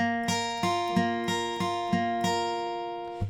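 Clean guitar notes are picked in a repeating pattern across the 3rd, 1st and 2nd strings. Each pluck rings out clearly and alone in an even rhythm, quiet and close.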